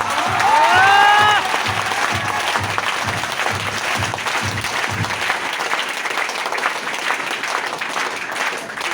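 An audience at a stage event bursts into loud, sustained applause. Rhythmic clapping and crowd noise continue throughout, and a brief tonal sound is heard near the start.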